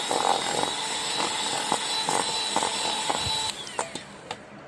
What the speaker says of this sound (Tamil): ஸோ அந்தளவுக்கு வர வரைக்கும் கொஞ்ச நேரம் பீட் பண்ணுவோம்.